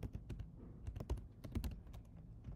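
Keys clatter on a computer keyboard in quick irregular bursts, soft close clicks and taps at a steady typing pace with brief pauses, alone and fairly quiet.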